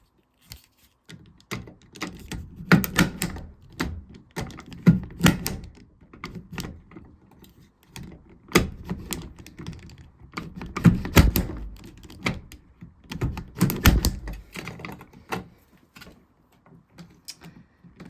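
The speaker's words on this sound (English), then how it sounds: "then I'll do the final hard push to do the cut on each of those across the bottom" Repeated sharp clicks and thunks from a punch-down tool seating and cutting Cat5e/Cat6 wires into a wall box keystone, irregularly spaced, close and fairly loud with no talk.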